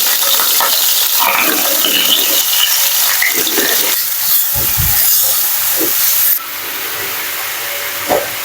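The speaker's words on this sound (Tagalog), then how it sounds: "Igigisa ko muna tong carrots para magkaroon siya ng kulay." A steady, loud sizzle of carrots sautéing in butter in a hot pan, with occasional scraping and stirring sounds, close by and without speech.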